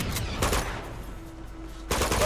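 Gunfire from a firefight in the action game Uncharted 2: a loud burst of rapid shots opens, a brief quieter lull follows, then another volley breaks out at the end, with no voices.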